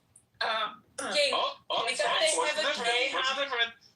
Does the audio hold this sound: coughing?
yes